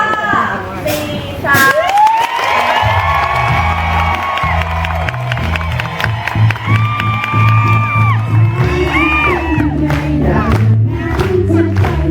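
A crowd cheers and whoops to welcome performers on stage, loud excited shouting and high voices over booming music and an announcer's amplified talk, sustained throughout.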